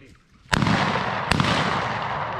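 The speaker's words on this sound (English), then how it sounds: "Good follow-up shot." A shotgun fires twice during a quail hunt on a plantation, a sharp loud blast followed less than a second later by a second shot, with outdoor reverberation trailing after.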